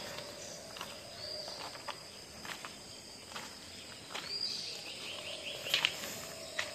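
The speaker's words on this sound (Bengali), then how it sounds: "চারিদিকে শুধুই পাখির ডাকের আওয়াজ।" Birds call at dawn beside the Murti River in the Dooars, faint chirps scattered over a steady bed of insect buzz, with occasional footstep-like rustles nearby.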